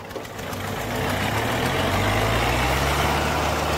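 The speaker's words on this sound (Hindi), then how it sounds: "पर ट्रैक्टर परेशान हो लिया भाई 750 में" Kubota 4x4 tractor engine labouring under load while pulling a rotavator through deep field soil, a loud, steady low rumble that swells and holds close up, with no talk.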